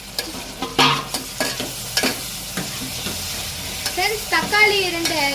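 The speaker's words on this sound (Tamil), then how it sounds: "வெங்காயம் வதங்கிடுச்சு ஃப்ரெண்ட்ஸ். இப்போ தக்காளி ஆட் பண்ணிக்கலாம் ஃப்ரெண்ட்ஸ்." Tomatoes fry with softened onions in a pan for chicken kulambu, a chicken curry. The close sizzle runs under repeated stirring scrapes, and a voice briefly speaks near the end.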